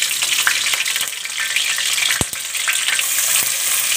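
Chopped onion hits hot oil seasoned with bay leaf, cardamom and cinnamon, a loud steady sizzle and crackle close up, with a few stirring scrapes and one sharp knock partway through.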